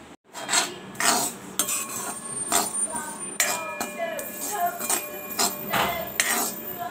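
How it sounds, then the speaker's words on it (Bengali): Sesame seeds being stirred in a metal pan on a home stove, with sharp clinks and scrapes of the utensil against the pan at irregular intervals, close by, and faint background voices. "তিলটা একটু নেড়ে নিচ্ছি।"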